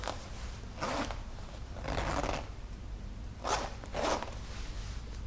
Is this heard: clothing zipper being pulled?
yes